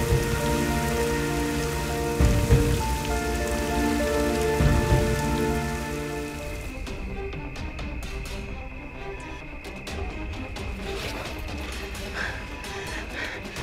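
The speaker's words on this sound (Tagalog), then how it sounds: "Ang lakas ng ulan." Heavy rain pours down steadily, a dense loud patter of drops on hard surfaces, briefly heavier early on before settling into an even downpour.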